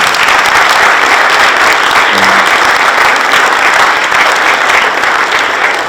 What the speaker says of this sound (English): So let's give a big round of applause for these guys.